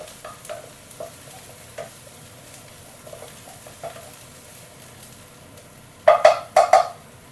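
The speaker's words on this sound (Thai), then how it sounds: "เสร็จแล้วก็เอาพริกแกงนะครับ ลงไปคั่วนะครับไปคั่วเลย" A steady low sizzle of Thai curry paste frying in a Tefal wok over high heat, with a few soft stirring scrapes and a burst of louder clanking spatula strokes near the end.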